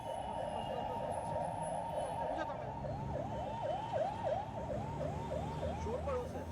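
Wailing ambulance siren in Indian traffic, its rising and falling sweeps repeating steadily over a constant rumble of road noise, fairly distinct and near.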